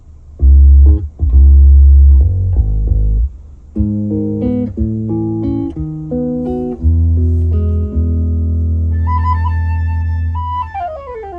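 Test music plays from the left speaker of a Honda City fitted with a 3-way active audio system, loud and full, with deep bass notes at first, then steady chordal tones and bright higher notes toward the end.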